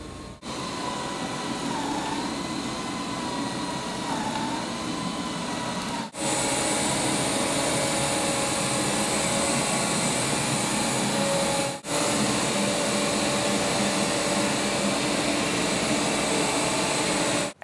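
A Roborock Q8 Max+ robot vacuum runs through its cleaning modes with a constant loud whirring, rushing hum. The level steps up at each mode change, and faint tonal whines sit over the airflow noise.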